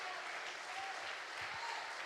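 A church congregation applauds during a Portuguese-language sermon, steady soft clapping spread evenly across the room, fairly distant and low in level with no voice on top.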